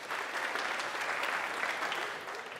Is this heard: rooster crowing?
no